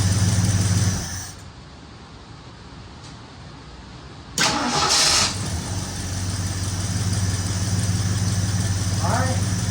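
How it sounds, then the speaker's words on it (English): A 1964 Ford Fairlane Thunderbolt clone's engine gives a loud burst of cranking, goes quiet briefly, then catches and settles into a steady, rumbling idle close to the listener. "Thing whirls that starter over better than this battery that's on."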